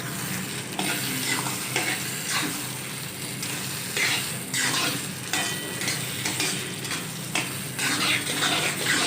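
Butter stirred into a pan of dal mash, a spoon scraping and churning in rhythmic strokes over a steady sizzle of frying, close and fairly loud.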